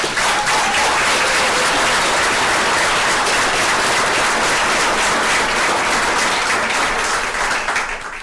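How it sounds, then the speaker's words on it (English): A crowd gives sustained, dense applause at a library award celebration for the Athens Regional Library System, Georgia Public Library of the Year 2017. The clapping is loud and steady throughout, with no talking over it. "Will you please give them another round of applause?"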